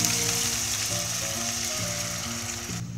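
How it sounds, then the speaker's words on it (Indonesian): Diagonally sliced large chilies sautéing with spice paste for sambal goreng kentang, a steady close sizzle hissing continuously under faint background music, no voices. "Kita tumis juga sama bumbu-bumbunya."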